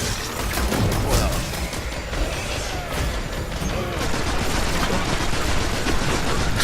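Rapid rifle gunfire from a Destiny match in a dense, continuous barrage, with bursts of shots and explosive booms layered over loud game noise throughout.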